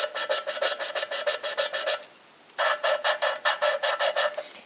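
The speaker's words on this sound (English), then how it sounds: "right there the sound of the grinding compound" Valve lapping on a 2001 Ford 550 TLB diesel: grinding compound is rasped back and forth in a quick steady rhythm of gritty strokes, close and clear, with a short quiet pause midway before the scraping resumes.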